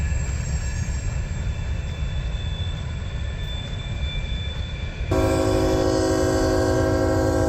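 Freight train L729 with rock hoppers rumbling past near Lakeland, Florida, a continuous heavy low roar of rolling cars, then a loud sustained horn blast joins for the last couple of seconds, no talk.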